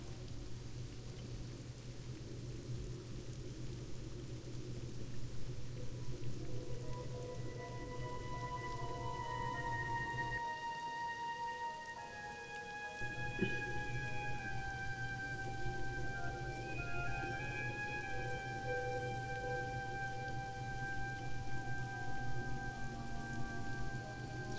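Steady rain falls across the Eversong Woods forest in World of Warcraft: Cataclysm, a continuous hiss under sustained musical tones, briefly thinning in the middle before resuming at an even level.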